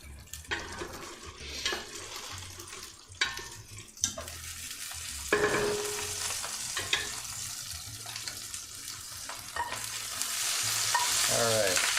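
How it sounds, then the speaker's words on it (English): Ramps sautéing in a pan sizzle steadily while being stirred, with repeated scraping and clattering strokes from a utensil, close and continuous over twelve seconds, without talk. "This is what sauteed ramps look like."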